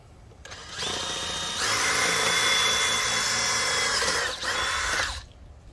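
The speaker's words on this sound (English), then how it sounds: "I'm just gonna come in here, just drill a hole right there," A power drill whirs up, runs steadily at high speed with a brief dip in pitch, then winds down; close and prominent with no talking.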